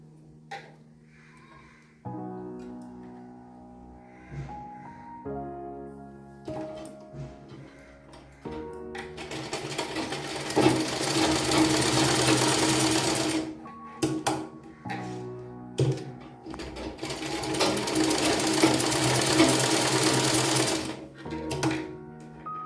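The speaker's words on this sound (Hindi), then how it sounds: "इस तरीके से सिलना पड़ता है" An electric sewing machine stitching a blouse, running in several bursts of rapid, steady mechanical clatter that grow longer and louder toward the end, with a faint tonal hum early on and no speech.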